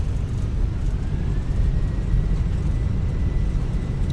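Airbus A319 touching down and braking in Microsoft Flight Simulator, a steady loud low engine and rolling rumble running throughout, with a faint thin whine above it.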